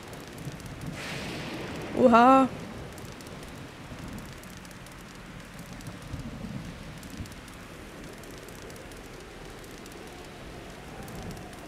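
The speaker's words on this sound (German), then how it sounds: "Da hinten ist einfach ein Blitz in den Baum rein." Thunderstorm in Zelda: Breath of the Wild, with steady, faint rain hiss throughout. A low thunder rumble rolls in early, and a man briefly exclaims. Softer rumbles follow later.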